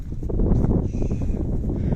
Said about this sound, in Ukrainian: Може трохи вітер буде задувати.